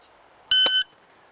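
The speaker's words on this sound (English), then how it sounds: "I reacted at the beginning of the beep" A single short, loud electronic start beep from a shooting shot timer rings out sharply for about a third of a second in an otherwise quiet moment.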